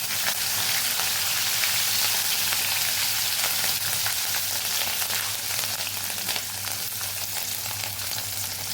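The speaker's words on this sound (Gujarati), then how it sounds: "અડધી ચમચી જેટલું આપણે જીરું ઉમેરશું પાંચ ચમચી જેટલી હિંગ ઉમેરશું અહીંયા મીઠા લીમડાની દાળ ઉમેરીશું લીલા મરચાં ઉમેરી દઈશું" Cumin seeds, asafoetida, curry leaves and green chillies sizzling in hot oil, a loud dense crackling hiss that stays continuous and close throughout, with no talking.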